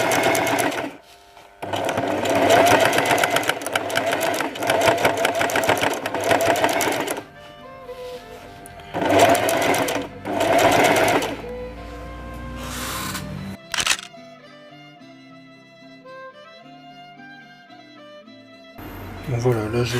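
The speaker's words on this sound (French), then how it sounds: "je coule le bas du pantalon à 1 cm avec un point droit" A sewing machine straight-stitches the hem of a pair of jeans at 1 cm in several close, loud rapid bursts with pauses between them. Music plays in the latter half and a voice is faintly heard.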